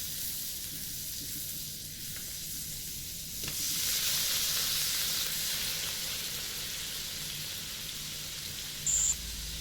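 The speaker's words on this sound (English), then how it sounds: "we're going to drop our onions in here" Chopped onions dropped into hot margarine in a wok start a bright, steady sizzle that swells partway through and holds, loud and close, with a short clink of a utensil near the end.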